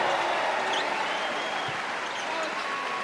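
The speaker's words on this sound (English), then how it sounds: "Crowd cheers as DeAndre Liggins checks into the game for the first time." An indoor crowd at a basketball tournament game cheers and applauds as a player checks in, a dense, steady roar of clapping and voices from a large audience that holds at an even level throughout.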